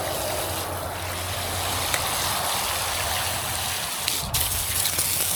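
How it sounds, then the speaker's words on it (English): Water gushes steadily into a bird bath being rinsed after a drill-brush and borax scrub, a continuous close splashing rush with a brief louder surge near the end. "we're going to give it a rinse"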